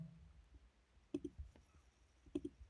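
A computer mouse gives two quick double clicks about a second apart, sharp and close but quiet against a faint background.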